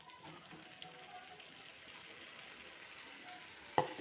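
Lemon pieces are mixed with salt and chili powder into pickle: a faint, wet, steady stirring and squelching that ends in a couple of sharper clatters.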